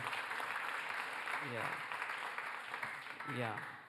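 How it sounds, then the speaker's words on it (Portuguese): Steady applause from a congregation at a men's church service, honoring a young preacher, with voices murmuring over the clapping for the whole stretch. "deve-se dar uma salva de palmas muito forte a esse jovem"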